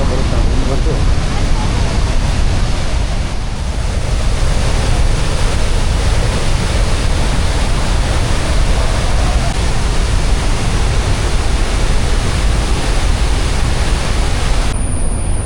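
Athirappilly Falls roars steadily as water drops from a great height, making a loud, unbroken broadband rush that fills the whole stretch without pause.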